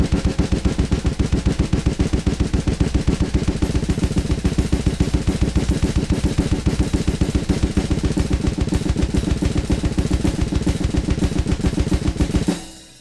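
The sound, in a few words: gravity blast beat played on snare drums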